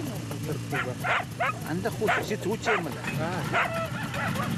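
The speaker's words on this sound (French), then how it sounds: "Les chiens sont nerveux." Several nervous hunting dogs in Siberian snow bark, yip and whimper in short bursts, close by and fairly loud over a low steady background.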